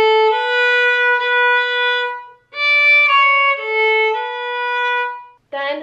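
Solo violin playing a slow, clean melodic phrase from a song: a few sustained notes with short breaks between them, close and clear.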